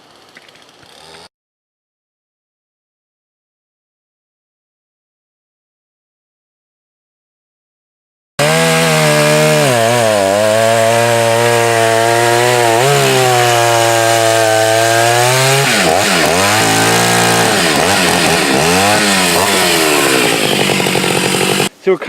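A chainsaw rips loudly and close through wood while a forest landing is cleared for felling, starting after a stretch of near silence and then running continuously with rising and falling revs.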